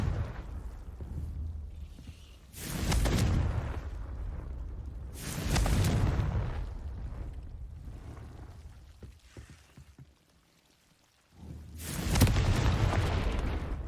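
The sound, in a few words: Confringo spell blast explosion in the video game Hogwarts Legacy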